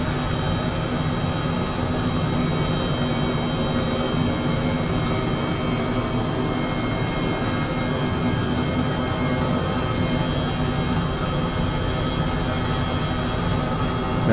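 Airbus H135 helicopter in flight in Microsoft Flight Simulator 2020, a steady, loud cockpit drone of turbine whine and rotor noise holding constant without any talk.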